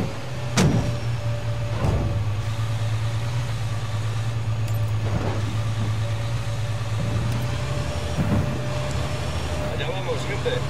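A car in Ghost Recon Wildlands drives along with a steady low engine hum and a few brief knocks, while voices talk over it.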